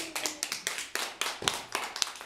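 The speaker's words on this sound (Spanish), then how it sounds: "Excelente, un aplauso para Shareni." Short applause from a classroom of children for a classmate after her turn singing, a few seconds of scattered, close handclaps in uneven bursts.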